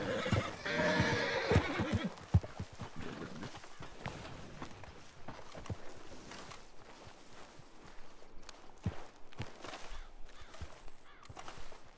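A horse in a western video game gives a loud whinny at the start, followed by steady clip-clop hoofbeats and footsteps as it is ridden over rough mountain ground.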